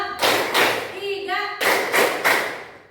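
A primary school class claps together in rhythmic patterns following a teacher's counting game, loud bursts of clapping with a short pause where children's voices chant.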